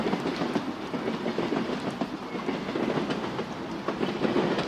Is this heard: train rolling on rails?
yes